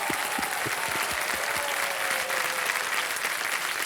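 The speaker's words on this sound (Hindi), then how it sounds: "एक बार जोरदार तालियां हो जाए चंचल सिंह के लिए" A studio audience on the KBC Under 25 set breaks into strong applause, a thick continuous wash of clapping from many hands that stays loud and even throughout, with no voices over it.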